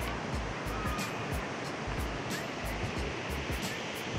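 River water rushes at a dam in a steady, close, broadband roar that runs unbroken through the whole clip, with no voices over it.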